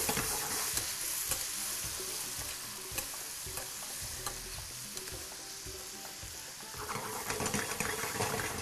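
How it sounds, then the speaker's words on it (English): Bananas cooking with butter, sugar and a splash of dark rum sizzle steadily in a pot, a continuous frying hiss with occasional stirring scrapes, close and fairly loud throughout. "You hear the sizzle already down to the pot like it."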